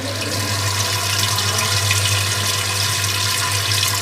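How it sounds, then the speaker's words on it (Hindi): Water pours continuously through a two-pot water system in a hospital, making a steady waterfall-like rush. A low hum sits beneath it, and no one speaks. "सबसे अच्छी बात इसकी आवाज़ सुनिए, जैसे झरने की आवाज़ होती है।"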